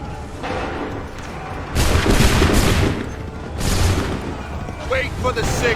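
Musket volleys fired by soldiers in the video game Assassin's Creed 3, two loud crackling bursts of massed gunfire roughly two seconds apart, each rolling out over a noisy battlefield background, with shouted commands between them.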